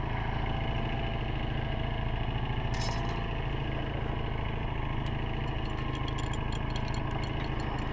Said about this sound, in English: shut this engine down